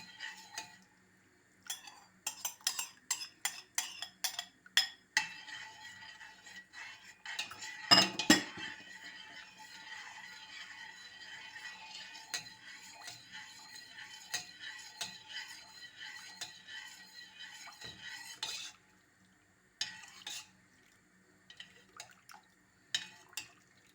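A spoon stirs zucchini soup in a pot without pause, producing soft liquid swishes and repeated metallic clinks and taps against the pot, fairly faint and close, with brief gaps and no speech.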